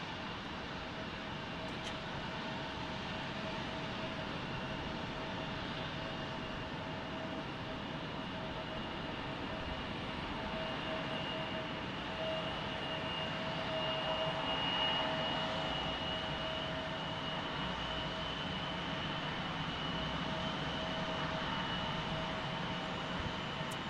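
A jet airliner arriving at Salt Lake City airport, heard as a steady, distant engine roar and whine that holds for a long stretch and swells slightly midway.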